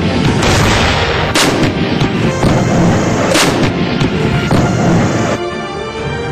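Loud artillery fire from a field gun such as the Bofors or the indigenous Dhanush howitzer: a dense run of heavy booming blasts overlapping with rumble, several sharp reports standing out, with no voices.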